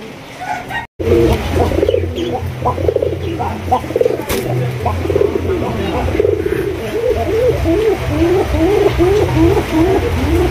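Many pigeons of large marked breeds at a bird market coo in a continuous overlapping chorus of rolling, throaty calls, close and fairly loud, while someone talks over them throughout.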